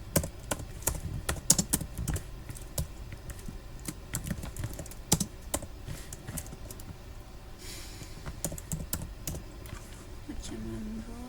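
Keyboard typing on a computer during a programming task, quick irregular keystroke clicks at close range, fairly faint, with scattered pauses and a brief low hum near the end.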